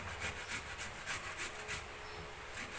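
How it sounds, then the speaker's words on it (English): Fresh turmeric root scraped against a grater, making rhythmic rasping strokes roughly three per second, close and fairly quiet, with no talking. "Bear with me while I do this part"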